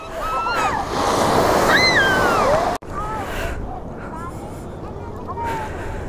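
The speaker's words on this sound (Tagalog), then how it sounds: "Dito na kami guys sa dagat." Steady roar of surf washing onto a beach in Bolinao, Philippines, with excited voices and children's chatter over the waves and a brief break midway.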